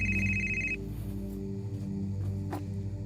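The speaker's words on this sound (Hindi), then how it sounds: "अभी किसका फोन आ गया?" A mobile phone rings with an incoming call in a domestic scene, a steady repeating electronic tone lasting under a second before cutting off, followed by quiet room sound with background music.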